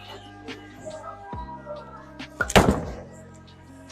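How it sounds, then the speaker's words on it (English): Bowling ball striking pins on the pin deck, a loud crashing clatter after a hollow rolling thunk, with pins rattling and ringing out briefly afterward. "You can see how it just goes through the back of the pin deck very nicely"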